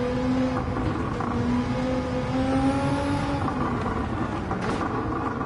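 Engine-swapped Lancia Delta in Gran Turismo 7 revving steadily, its engine tone rising and sliding in pitch over several seconds, loud and continuous with a faint high whine on top.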